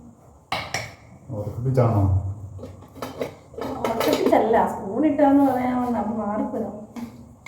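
Spoons and dishes clatter in short bursts as food is served at home, with curry, buttermilk and a pickle container being passed around, while several people talk and laugh over the clinking.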